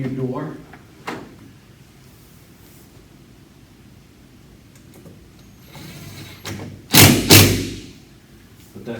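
A door fitted with a newly installed door closer swings and bangs shut with a heavy double thud near the end, after a few lighter knocks and some handling noise.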